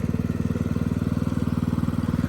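Y-blade riding lawn mower engine running while the gears are shifted from low through first and second, a steady pulsing mid-pitched putter heard close and alone.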